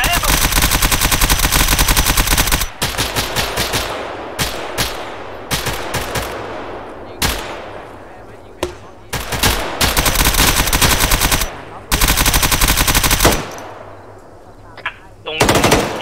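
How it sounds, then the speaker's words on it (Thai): Sustained automatic gunfire in ArmA 3 during a convoy transport operation, long loud machine-gun bursts broken by short gaps and single sharp shots, close and dominant throughout. "มันยิงหาเราแล้ว"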